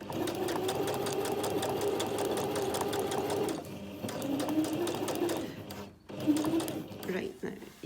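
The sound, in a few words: sewing machine stitching a zip into a cushion cover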